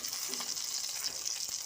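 Rohu fish sizzling steadily in hot oil in a pan, a dense continuous frying hiss with faint crackles and no talk.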